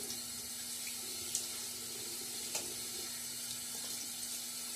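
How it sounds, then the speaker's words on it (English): Tap water runs steadily into a sink during a wet shave with a Gillette safety razor, a continuous close hiss with a few small splashes, no voices. "splash of water."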